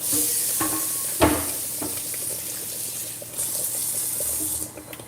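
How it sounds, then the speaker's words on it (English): A kitchen tap runs water into a pot of dal to thin it, a steady close hiss of flowing water with a few soft clinks and a brief louder burst near the end. "Add a little tip of water just to thin it out a little."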